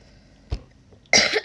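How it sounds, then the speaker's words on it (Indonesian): Two short coughs during a late-night live stream: a single sharp one, then after a pause a louder, rougher double burst close to the microphone. "Udah langsung batuk-batuk."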